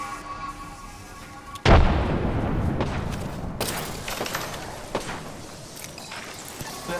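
A frag grenade detonates in Apex Legends with a sudden loud boom, followed by a rumbling, crackling tail and scattered later impacts.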